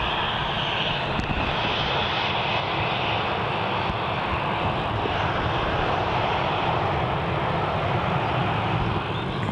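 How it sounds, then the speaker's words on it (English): A Shanghai-based Boeing 787 lands on runway 27 at Melbourne Airport, its steady broadband engine roar filling the whole stretch at a constant, fairly loud level with no talking. "we're going to try and get MU 737, the Shanghai 787 landing on runway 27"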